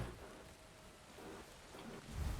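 Rain falling in the video game Minecraft, a faint, steady hiss of wet noise with a low rumble that swells louder near the end, with no voices.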